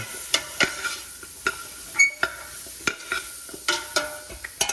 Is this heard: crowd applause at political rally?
no